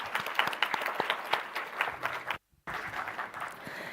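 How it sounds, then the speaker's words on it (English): An audience applauds an award winner at an event against cyberbullying: a steady crowd of clapping hands with a few sharper individual claps, broken by a brief moment of silence before resuming. "Can we have a huge round of applause for ma'am?"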